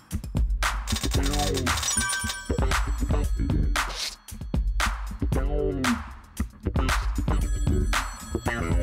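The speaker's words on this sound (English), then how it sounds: "There's the phone." A telephone rings in the video game ToeJam & Earl: Back in the Groove, repeating bursts of a bright electronic ring over loud game music and effects, with regular gaps between rings.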